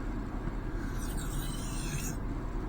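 Knife blade drawn across the rougher surface of a honing stone, a steady, smooth, quiet rasping scrape held continuously for a few seconds.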